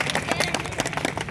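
An audience at a Hindi speech about Dr. Ambedkar claps, with dense, uneven hand claps from a crowd close by, lively and sustained through the whole moment.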